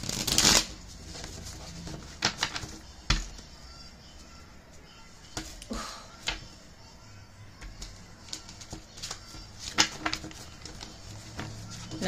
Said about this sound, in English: Let me get a shuffle.